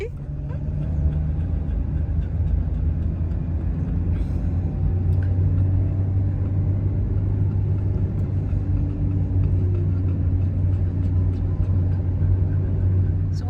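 A car drives along a valley road through hills, heard as a constant low engine and road rumble from inside the vehicle, steady and fairly loud for the whole stretch.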